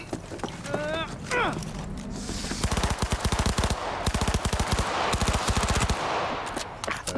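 Rapid automatic gunfire in the video game Cyberpunk 2077 rattles in fast bursts for several seconds, loud and up front, after brief game voices and effects.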